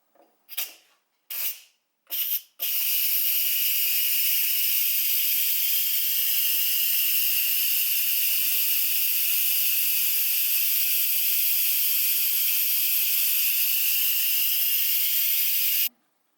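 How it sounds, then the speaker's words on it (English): Steady loud hiss of steam venting under pressure from an Instant Pot IP-DUO60 pressure cooker, continuous for about thirteen seconds after a few short bursts, then cutting off abruptly. "the steam coming out of here will be extremely hot"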